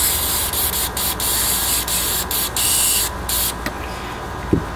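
Ballistol lubricant sprays steadily from a can onto Ruger revolvers during cleaning, a loud continuous hiss broken by a few brief pauses and ending with a small clunk.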